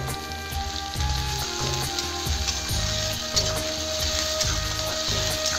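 Raw potato pieces frying in a pan with a pinch of salt for aloo poha, a steady close sizzle with intermittent scraping and stirring thumps in a repeating rhythm, no voices.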